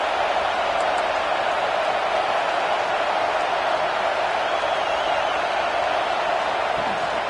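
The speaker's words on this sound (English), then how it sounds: "Listen to the crowd energy here in the early going." A stadium crowd at a football game roars in a steady, dense wall of noise early in the contest, loud and unbroken with no single voice standing out.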